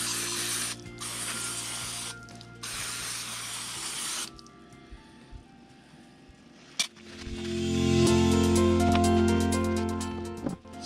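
Primer sprayed from an aerosol can onto a wooden car hauler trailer: two bursts of hissing spray in the first few seconds, then quieter handling clatter and a louder mechanical droning rumble.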